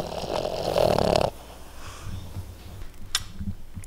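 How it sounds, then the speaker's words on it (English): A Boston Terrier snores with a rough, wheezy rasp, one loud snort-like burst up close followed by quieter breathing and faint room noise. "That's the one kind of downfall of Boston Terriers. They're a little snory."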